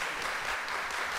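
Wrestling arena crowd cheering and applauding steadily throughout as a fighter gets back to his feet, a dense roar of clapping and voices with no clear breaks.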